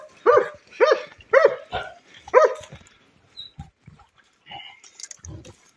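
Hunting dogs on a wild boar hunt in Çorum, Turkey: a quick run of five loud barks, then quieter scattered yelps and sounds follow outdoors.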